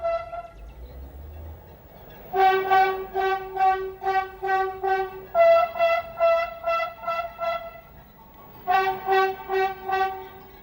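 An autorail train's horn on a Corsican railway sounds in a series of short, loud blasts near the Fiumenese tunnel, goes quiet briefly, then blares again in another burst.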